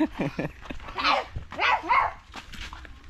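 A dog gives a few short barks and yips close by, interspersed with a person's voice.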